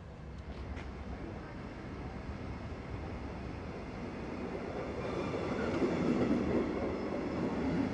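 A locomotive-hauled Regional Express from Hamburg arriving at Rostock Hauptbahnhof, a steady rumble and clatter of rail cars that grows gradually louder, with faint squealing from the wheels near the end and no talking.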